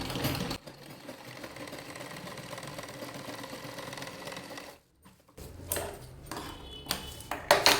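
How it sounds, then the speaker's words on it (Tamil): A sewing machine runs steadily while stitching an extra seam into a herbal pillow, a close mechanical whirring that pauses briefly, then resumes with clicks and handling noises near the end. "அப்படியே இன்னொரு தையலும் போட்டுக்கலாம்."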